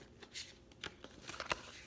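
A deck of tarot cards being shuffled by hand, a soft papery riffle and slide of cards in a few short bursts, close and quiet with no talking.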